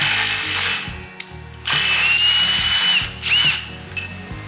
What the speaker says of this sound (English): what I like to do with the pulley is use a 9/16 impact